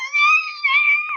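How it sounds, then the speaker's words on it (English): A Spirit Halloween animatronic from the 2023 lineup lets out a shrill, wavering electronic screech, high and piercing like a child's scream, close and loud in two sustained bursts. "and then just starts screeching like a 5-year-old."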